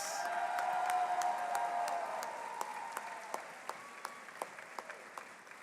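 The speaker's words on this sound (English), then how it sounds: "Let's give one more round of applause for Ms. Threadgill's advisory class" Applause at a Westlake Charter High School graduation ceremony for an advisory class fades away, leaving a few scattered, isolated claps that trail off near the end, with a faint tone held early on.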